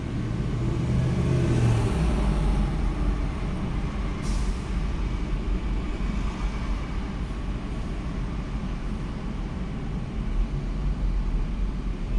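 Busy street traffic in the Bronx, New York, near Castle Hill and Havemeyer Avenue, makes a dense, continuous roar of passing cars and heavy vehicles. A brief hiss like an air brake sounds once, and no one speaks.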